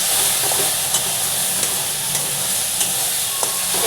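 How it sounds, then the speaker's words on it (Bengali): Ground spice paste sizzling in hot oil in a wok while cooking jackfruit with prawns, a loud, steady frying hiss broken by a few sharp spatters and stirring scrapes. "এবার আমি কড়ার মধ্যে ভালো করে তেল দিয়ে এটাকে ফ্রাই করব।"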